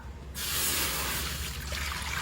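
Water poured into a pot for boiling pork skin, a sudden steady hissing rush that starts after a brief quiet moment and keeps on evenly, close by.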